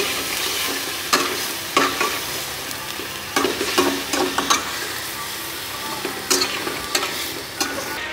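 A spoon stirs white handi in a cooking pot over a steady sizzle of frying, with sharp scraping strokes coming in irregular bursts against the continuous hiss.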